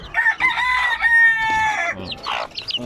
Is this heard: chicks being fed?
yes